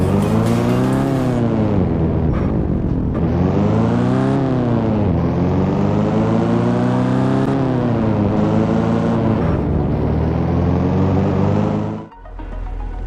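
Loud car engine in Car Parking Multiplayer revving and accelerating through repeated gear shifts, pitch climbing and dropping, then a brief lift-off near the end.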